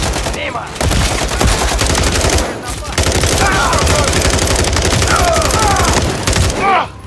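Sustained automatic gunfire and rapid shots fill the Modern Warfare 3 Verdansk stadium terrorist attack, loud and near, with brief lulls and shouted voices mixed into the chaos.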